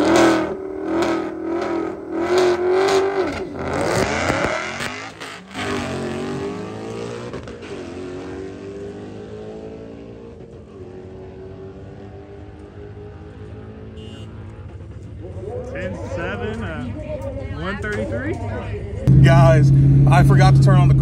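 A Whipple-supercharged 2013 Ford Mustang Boss 302 accelerates hard down a drag strip, its engine roar climbing in pitch through several gear shifts before easing off and fading, then rising again near the end.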